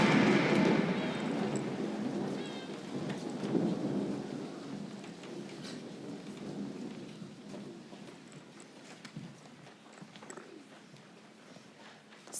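A staged thunderstorm effect rolls through a cabaret performance, with rumbling thunder and a hiss like steady rain, loud at first and slowly easing over several seconds, no voices over it.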